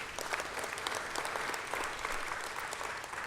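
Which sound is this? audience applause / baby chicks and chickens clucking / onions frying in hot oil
audience applause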